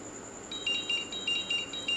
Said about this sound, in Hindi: हमारी जो बैटरी है ये फुल हो चुकी है और हमारा अलार्म बजना शुरू हो गया है